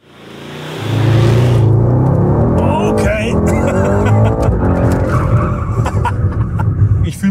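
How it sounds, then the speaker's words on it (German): A Mercedes-AMG drifting on asphalt at the Immendingen test grounds, its engine roaring loudly and close alongside a steady wash of tire noise, with a brief spoken word near the start. "ich einen möglichst schönen Drift hier auf den wunderbaren, tollen Asphalt hier in Immendingen brenne"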